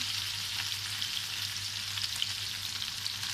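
Chicken and peppers sizzle and fry in a pan while being stirred, a steady close crackling hiss with light scraping, no voices.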